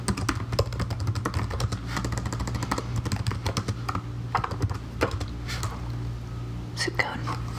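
Rapid, steady tapping on a computer keyboard in a librarian role-play setting, close and crisp, running throughout with soft whispered talk beneath it.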